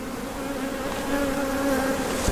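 Bees hum densely inside an open beehive brood chamber, a steady close buzzing drone with no talk.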